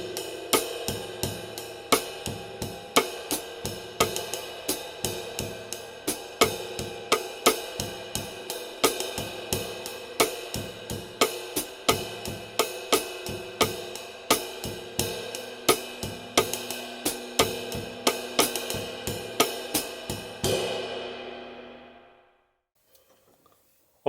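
A drum set plays a bossa nova groove, with steady, evenly spaced stick strokes and accents repeating in a relaxed pattern over a ringing cymbal wash, alone for about twenty seconds before the sound cuts off.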